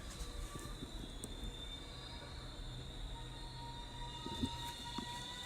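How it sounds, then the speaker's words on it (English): A train rumbles past at a distance with a steady roar and a faint high metallic squeal from the wheels, with no voices. "I have the lovely sounds of the train to wake me up in the morning."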